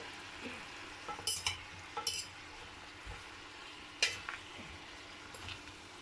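Pieces of chicken sizzle in a pot for a tajine as a utensil stirs and turns them, with sharp metallic scrapes and clinks against the pot in short bursts over a low frying hiss.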